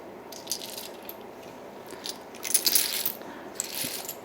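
Vintage buttons rattling and clicking inside a vintage Old Spice Early American Shulton trinket box, a close, irregular stream of small hard clacks that thickens into a busier shaking burst midway, with no talking.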